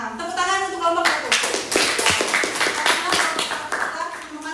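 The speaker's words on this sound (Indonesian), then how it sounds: "Tepuk tangan untuk kelompok 1." A group in a university Arabic-language classroom claps for the first presenting team. A brief voice opens the moment, then dense, lively hand claps fill the rest steadily.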